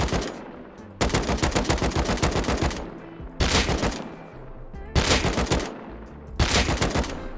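AK rifle fire in the game Rust comes in four loud, sustained full-auto bursts of rapid, evenly spaced shots, each stretching over a second or more, with short pauses between them.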